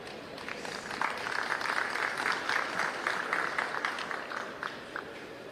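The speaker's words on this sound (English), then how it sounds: "Give the players a reward. A nice round of applause." An audience applauds good play at a pool match in the 2023 World Teams Championship, with steady, dense clapping that holds for several seconds before easing off slightly.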